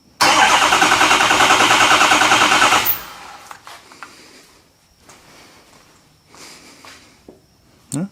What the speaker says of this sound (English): then we'll give this thing a crank.